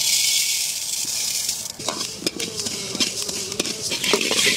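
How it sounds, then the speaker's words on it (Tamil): Fenugreek and mustard seeds roasting in a pan for a star gooseberry pickle, a steady hiss of dry heat broken by quick sharp crackles and pops that grow busier partway through, close and fairly loud. "படப்பட்டான்னு அப்படியே தீபாவளி பட்டாசு, பிஜிலி பட்டாசு மாதிரி வெடிக்குது பாருங்கள்."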